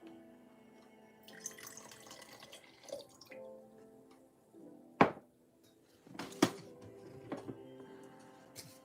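Paint rinse water being changed at an indoor sink, with quiet running water, scattered drips and splashes, and a few sharp knocks of a container or cupboard, intermittent and close.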